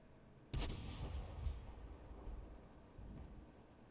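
A 105 leFH18B2 howitzer fires in a video game: a sharp, heavy boom, then a second, smaller report and a rolling rumble that fades, with no voices.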